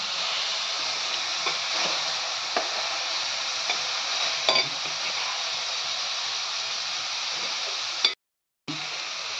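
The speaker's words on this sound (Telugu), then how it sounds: "ఇప్పుడు ఉప్పు చేపలు ఎండు రొయ్యలు వేసేస్తున్నావా? ఇవి కూడా కొంచెం సేపు వేపాలా?" Salted fish and dried shrimp fry in oil with eggplant in a pan, giving a constant close sizzle broken by soft stirring scrapes, with a brief dropout near the end.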